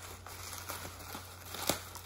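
Tape is torn and peeled off the cardboard packaging of a comic book, with soft crinkling and a few short ripping bursts, the loudest near the end, against a faint steady hum.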